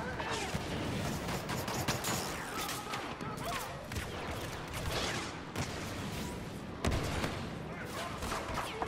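Dense bursts of rapid gunfire and blasts fill a space battle against enemy ships, a loud, continuous barrage with heavy impacts and occasional crashes, with voices talking underneath.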